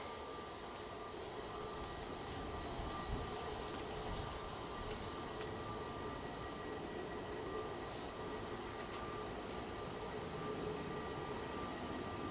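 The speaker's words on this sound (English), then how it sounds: "Turkish Airlines A321 now coming over." A Turkish Airlines Airbus A321 passes overhead at Manchester Airport, a steady, broad roar of jet noise that holds even and continuous throughout.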